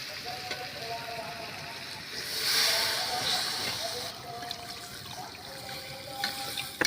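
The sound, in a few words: water poured into a hot pan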